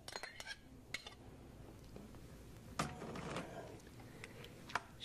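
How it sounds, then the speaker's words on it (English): Chopped tomatoes stirred in a pot with a utensil, giving faint, sparse clinks and scrapes against the pot in a quiet home kitchen, with a louder clank near the middle and another toward the end. "Stir it a little bit."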